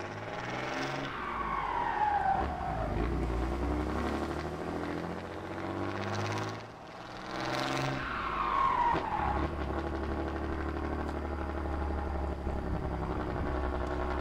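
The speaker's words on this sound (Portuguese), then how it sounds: "É muito bacana mesmo o ronco desse caminhão." A truck engine in Farming Simulator 2013 drones steadily and loudly, its pitch rising and falling in two long sweeps as it revs and accelerates, with no voices over it.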